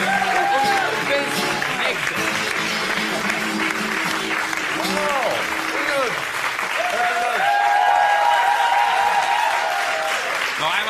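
Studio audience applause for Gabriel at the end of a German TV comedy show episode; sustained loud clapping and cheering throughout, with voices and music over it.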